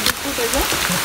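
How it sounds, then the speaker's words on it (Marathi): Heavy monsoon rain pours down at Rajgad Fort, a steady dense hiss filling the moment while a voice talks over it. "फुल पाऊस चालला इथं आणि त्या पावसात आपला विलग चालू आहे"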